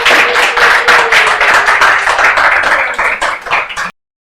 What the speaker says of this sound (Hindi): एक बार जोरदार तालियां आप सब लोगों के लिए।